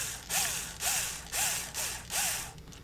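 Screws are driven back into a Pemko 379CPK adjustable jamb weatherstrip with a black Pemko Prene insert, giving five rhythmic ratcheting bursts of metallic turning, close and fairly loud, with short pauses between them.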